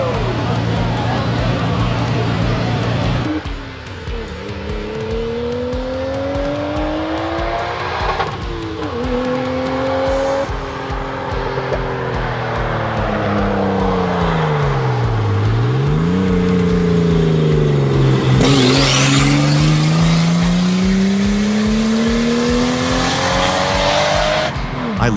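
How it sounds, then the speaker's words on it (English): A loud diesel truck engine revs hard at full throttle, its pitch climbing and dropping repeatedly over a constant mechanical roar. "I love the way it just pops into full throttle."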